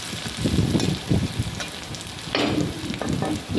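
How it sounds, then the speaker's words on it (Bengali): Onion, ginger, garlic and green chillies sizzle loudly in a hot pan, with bursts of scraping and stirring and a sharper hiss as more ingredients hit the oil, all close and without speech. "পেঁয়াজ, আদা, রসুন ভাজা ভাজা হয়ে এসেছে। এবার দুটো চেরা কাঁচা লঙ্কা দিয়ে দিলাম।"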